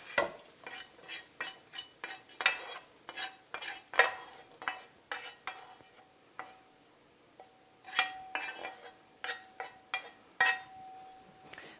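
A utensil scrapes and taps repeatedly as sautéed vegetables are moved from a pan into a bowl of hamburger, giving a steady series of close clinks and scrapes with a brief pause partway through.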